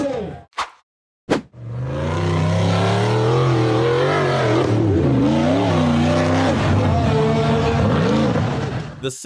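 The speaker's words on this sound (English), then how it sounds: "The silver-gray off-road buggy aggressively powered up the steep dirt hill covered with tree roots." A silver-gray off-road buggy's engine roars loud and close as it powers up a steep dirt hill covered in tree roots, revving hard and wavering in pitch, after two short sharp knocks at the start.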